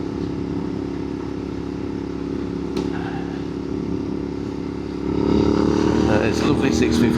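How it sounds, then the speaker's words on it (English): A Royal Enfield 650 twin rumbles steadily on the move, then swells louder partway through as it climbs a rise, with someone talking over the engine. "It's a lovely 650 motor."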